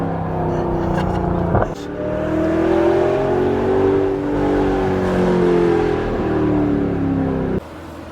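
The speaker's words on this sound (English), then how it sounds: "Rev it when he gets there." A straight-piped C8 Corvette revs hard, its loud engine roar swelling and sustaining over several seconds and dropping off briefly near the start and again at the end, with people talking faintly in the background.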